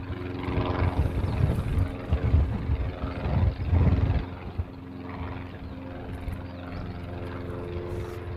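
Jet airliner noise at Honolulu airport during plane spotting, likely an arriving Hawaiian Airlines plane: a steady, fairly loud engine roar with a droning low hum that swells in the first four seconds, then holds at a lower, even level, with no talking.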